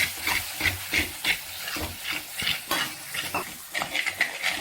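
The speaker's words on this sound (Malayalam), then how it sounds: "കുറച്ച് വെള്ളവും കൂടെ നമുക്ക് അതിനകത്തോട്ട് ഒഴിച്ചു കൊടുക്കാം വീണ്ടും നന്നായി ഒന്ന് യോജിപ്പിക്കണം" A spoon scrapes and stirs fish curry masala with added water in a pan, a series of close, rhythmic scraping strokes with light metallic clinks and no talking.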